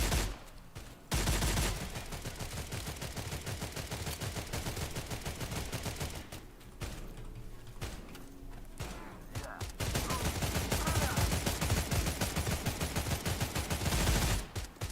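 Gunfire in the video game STALCRAFT: X: long, rapid automatic bursts with only brief pauses between them, loud and close, sounding like sustained fusillades with no talk.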